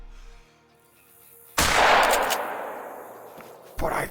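A single loud, close 12 gauge shotgun slug blast from a mule deer hunt in the Call of the Wild game. A long rolling echo fades away behind it, and a second sharp burst sounds near the end.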